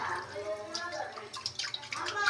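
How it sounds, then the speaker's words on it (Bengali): Kitchen utensils rinsed under running water before scrubbing with soap, a steady close wash with a few clinks and splashes over a soft background, while someone talks. "সিল্কের দোয়াগুলো এক হাতে ভিডিও করতেছি তো, আর এক হাতে ধুয়ে নিচ্ছি।"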